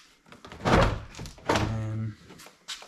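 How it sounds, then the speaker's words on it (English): A car door trim panel being lifted and knocked loose from the door, giving two solid thunks with a short rattle, close and fairly loud. "you're pretty much just going to lift up on the door"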